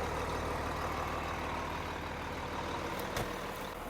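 A farm tractor idling steadily out in a field, a constant loud low rumble filling the whole stretch, with a brief metallic tick near the end and no talk.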